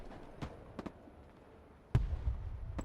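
Artillery shells striking in Broken Arrow, a handful of sharp distant cracks followed by one heavier close impact with a rumbling boom that lingers.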